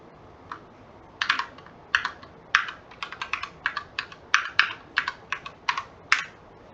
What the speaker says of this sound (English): Type in our public IP address.